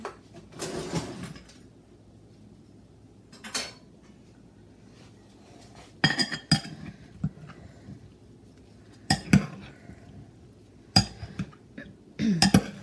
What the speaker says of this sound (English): Grab a nice spoon to stir this with.